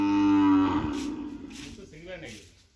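A newly calved cow on a farm lets out one loud, long, close moo that falls away, followed by faint voices and low background noise.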